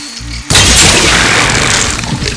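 Crystals on a machine in Horizon Forbidden West detonate with a sudden loud boom, followed by a sustained crackling, shattering burst that fills the rest of the moment.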